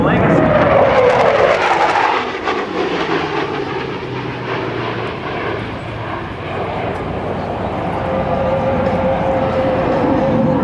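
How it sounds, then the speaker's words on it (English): A Navy F/A-18C Hornet legacy jet roars past at the 2006 NAS Oceana airshow, its loud engine noise sweeping by with a falling pitch before settling into a steady distant rumble, with an announcer speaking over it. "from the left, Lieutenant Dustin Two-pack Lee coming by in the Navy's A-18C Legacy"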